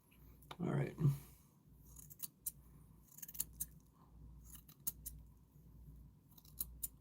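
Scissors snip through a beard close by, a series of crisp, quiet metallic cuts in irregular bursts over soft background noise, with a voice briefly heard at the start.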